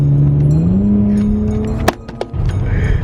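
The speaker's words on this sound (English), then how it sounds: "let me go ahead and step on it for a little bit. Put on sport mode and downshift." A slammed BMW E92 335i on BC coilovers accelerates hard in sport mode, its engine note climbing steadily and loud up close before a downshift breaks it off sharply, followed by a rougher, choppier burst.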